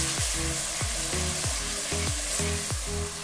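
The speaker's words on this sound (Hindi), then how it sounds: "अब हम इसमें 3 टेबलस्पून अदरक लहसुन का पेस्ट डाल देंगे।" Ginger garlic paste frying in hot oil with bay leaves and shahjeera for Mumbai-style mutton biryani: a loud, steady close sizzle with rhythmic stirring scrapes about every half second throughout.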